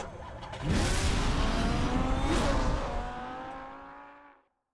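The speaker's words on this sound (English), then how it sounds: "That's a great sounding engine." A car's engine roars up and revs in a Batman video game, loud and sustained with tire noise, then fades away as it pulls off.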